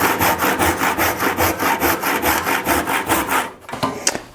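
A handsaw crosscuts a wooden board by hand in steady, even back-and-forth strokes, about a dozen rasping passes close up, before the sawing stops and a few light knocks follow.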